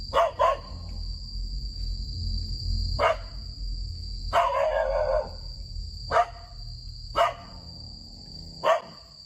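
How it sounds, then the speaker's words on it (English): A dog barks in sharp, separate bursts, about six spread over several seconds, over a low rumble and a steady high tone, with no speech. "The dog growls and barks aggressively"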